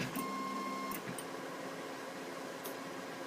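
A malfunctioning 3D printer whirs and buzzes at a steady level as its head shuttles back and forth, with a thin motor whine and a few faint ticks, all alone at low volume.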